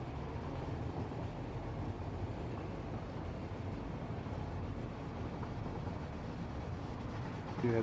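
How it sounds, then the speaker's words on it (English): Trains running on rail lines in the factory-building game Satisfactory, a steady dense rumble of rolling wagons that fills the whole stretch at an even, fairly loud level, with no voices. "Do you have trains coming and going?"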